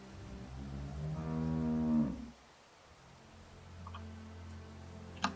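A cow in The Walking Dead video game gives one loud, drawn-out moo in the first two seconds, followed by quieter game ambience and a faint click near the end.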